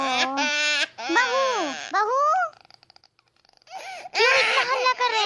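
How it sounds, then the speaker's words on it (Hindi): A baby cries and wails loudly in a home, the cries interleaved with adult voices calling out and talking over it, with a brief quieter pause midway before the crying and talk resume. "कब से बच्चा रोए जा रहा है, तुमको कब से बुला रहे हैं?"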